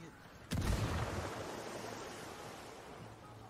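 A grenade explodes in Ghost Recon Wildlands with a sudden sharp crack and deep boom, followed by a long rumbling, hissing decay that slowly fades, heard fairly close and alone.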